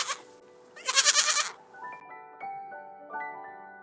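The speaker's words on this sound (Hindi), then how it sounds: "goat" A goat bleats once loudly and shakily, then gives several shorter wavering bleats, close and clear with no talking.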